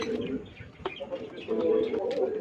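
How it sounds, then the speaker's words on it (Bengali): Mukhi pigeons, one of them a female, coo in low repeated murmurs, close and fairly steady, with faint chirps mixed in and no clear talk. "এটা হচ্ছে ফিমেল, এটা হচ্ছে মুখী পায়রা।"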